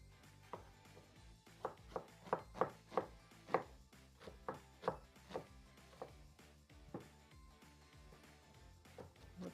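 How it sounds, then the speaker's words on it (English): Onions being chopped with a knife on a cutting board, a steady run of a dozen or so crisp, close knocks with short irregular pauses, quiet and alone. "I'm just going to go ahead and begin to chop these onions"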